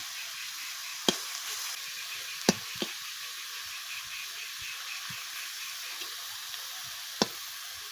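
Bengali-style saag greens frying in a pan give a steady, quiet sizzle with a few sharp ticks and pops from the utensil, heard alone without voices.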